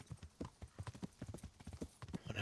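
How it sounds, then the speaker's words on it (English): Horse hooves clip-clop in a quick, steady rhythm as a rider travels in Kingdom Come: Deliverance, the hoofbeats close and distinct with a faint snort mixed in. "Whenever I'm riding a horse, you know I'm up to no good."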